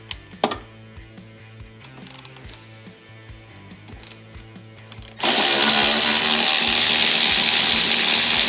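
A power tool works the four bolts on a Kawasaki pump nozzle, first with light ratcheting clicks and mechanical knocks, then a sudden loud, steady whirring roar that holds to the end.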